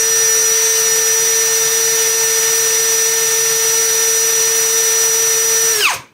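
A DEVETECH CS-45 compact cordless screwdriver running at its first speed gives a steady, loud motor whine held close for several seconds, then winds down quickly as it stops.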